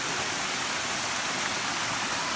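Engkanto Falls waterfall in Camarines Sur roars as a dense, steady rush of falling water, loud and close, with no voices over it.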